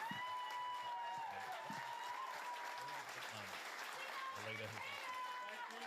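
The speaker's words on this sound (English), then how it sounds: "they are really cheering for Dutton despite like everything that went wrong" A crowd at an Australian federal election night event for the Liberal leader claps and cheers in a sustained, dense wash of applause heard from a distance, with occasional whoops and voices talking over it nearby.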